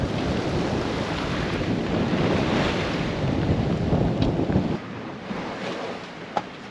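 Ocean waves and spray wash against a singlehanded sailboat far north of Hawaii, a steady loud roar with wind buffeting the microphone, easing near the end with a sharp splash.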